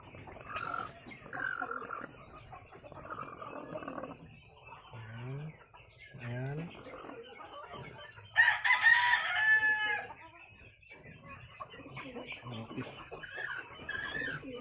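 Hens cluck in short bursts around a backyard chicken farm, and a rooster lets out one loud crow midway through, with someone talking intermittently nearby.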